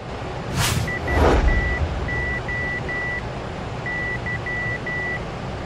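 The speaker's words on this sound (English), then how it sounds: "Let's just identify our ILS. Bring up the comm panel and turn on the mic." Morse identifier tone of an ILS in a Boeing 747-400 flight simulator on approach into Toronto: a steady tone pulsing in short and long dashes, two groups separated by a pause, over constant cockpit background hum, with a brief rushing burst near the start.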